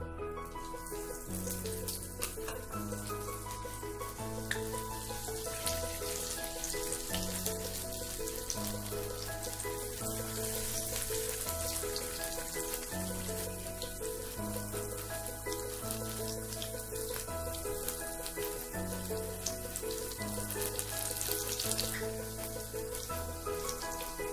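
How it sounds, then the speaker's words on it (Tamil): Bitter gourd fries in hot oil on a gas stove, giving a steady, continuous sizzle that runs throughout under prominent background music. "இந்த பாவக்காயை போட்டு அதில் வறுத்து எடுக்கவும்."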